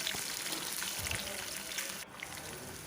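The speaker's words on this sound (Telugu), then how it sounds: "వేసి ఆయిల్లో మంచిగా ఫ్రై అయ్యేలాగా కలపాలి" Green chillies, cumin and mustard seeds fry in hot oil in a pan, giving a dense, continuous close sizzle with small crackles. It eases slightly near the end.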